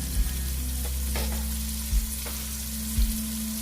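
Onion fries in a pan over medium heat, a steady close sizzle running throughout with a few soft low bumps of stirring.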